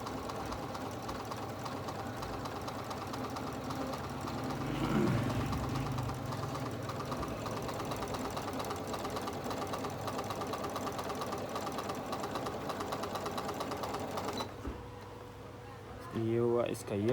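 A Janome 7700 embroidery sewing machine stitching a design runs with a steady, fast mechanical whir and rhythmic chatter that continues for most of the stretch, then briefly slows and shifts near the end, with a voice speaking over the machine.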